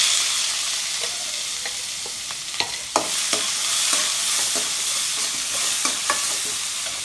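Mustard seeds, urad dal and onions fry in hot oil with a steady hiss, punctuated by sharp pops and spoon taps against the pan at irregular intervals, close and clear without any talk.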